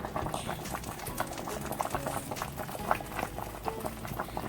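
Water boils vigorously in a pot for cooking napa cabbage for cabbage rolls, a dense steady bubbling and rumbling with scattered pops, close and continuous, with no talking.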